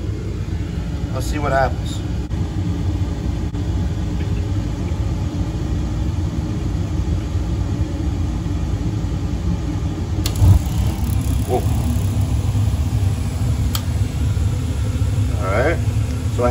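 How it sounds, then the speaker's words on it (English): An AO Smith BTR-500 gas water heater runs its inducer assembly and blower, a steady low mechanical hum and rumble that continues throughout, with someone talking briefly over it and a few faint clicks. "So the inducer assembly is running, the blower is running."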